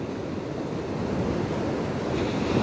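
Ocean surf breaks steadily at St Mike's Beach, a South Coast surfing and bodyboarding spot with a tidal pool, heard as a continuous low roar with wind buffeting the microphone and no talking.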